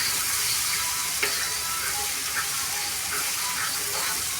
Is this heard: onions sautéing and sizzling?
yes